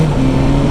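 A loud, steady engine roar from close by, a 2021 BMW S1000R motorcycle revving high and pulling hard through quickshifted gears with a sustained buzzing tone.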